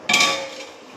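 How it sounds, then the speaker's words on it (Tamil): A lid set onto a pot of simmering fish curry, a single bright metallic clang near the microphone that rings out and fades within a second. "இப்போ மூடி போட்டுரும்"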